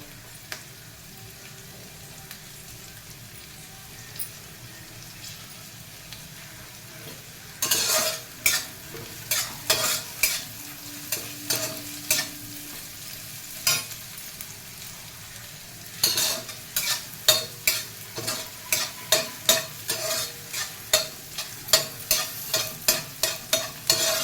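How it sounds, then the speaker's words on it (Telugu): Brinjal and drumstick pieces frying in a pan for a drumstick tomato curry: a low steady sizzle, then bursts of sharp scraping stirs in irregular runs, loud and close, with no voices. "ఒక్క వంకాయ వేసి ఉడికిస్తాను. కొంచెం వేగాక అప్పుడు మిగిలిన యాడ్ చేస్తాను."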